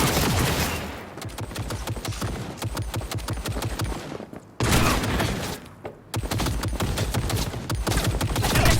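Rapid automatic gunfire from a Cyberpunk 2077 firefight, dense and loud bursts crackling almost continuously, broken by two short pauses before the shooting resumes at full intensity.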